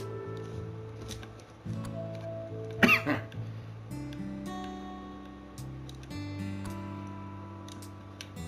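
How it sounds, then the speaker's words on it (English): A single sharp cough bursts out once, close and fairly loud, over a quiet background of soft music and faint game clicks. "Again, sorry for my cough."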